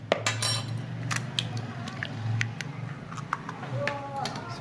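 Vinegar-marinated chicken and egg are stirred together in a bowl, with a quick run of light clinks and taps from a utensil against the bowl, close by, under a voice speaking.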